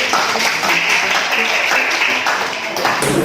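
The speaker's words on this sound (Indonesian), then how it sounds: "Tepuk tangan untuk kita" Students in a classroom clap for themselves at the end of a civics lesson, a short, loud burst of close clapping mixed with a few voices, ending abruptly after a few seconds.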